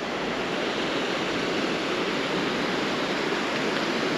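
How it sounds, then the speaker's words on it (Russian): A steady, powerful rush of flowing river water near Tikhonovka in Lazarevsky District fills the whole clip, a dense constant roar with no voices. "Сама река серьезная такая прям."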